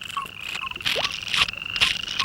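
A toad croaks in short, close, repeated calls, several bursts in quick succession over a quiet background.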